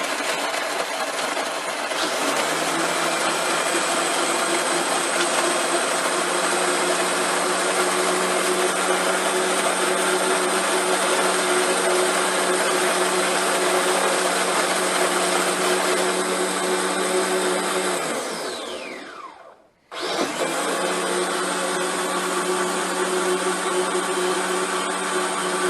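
A Margaritaville Bahamas frozen concoction maker runs loud and steady, its motor whining as it shaves ice into the container, then cuts out abruptly near the end before restarting at full strength.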